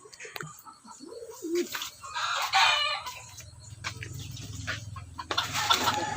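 A rooster crows loudly nearby, its long call rising and falling, with other birds and fowl clucking and chirping in the background.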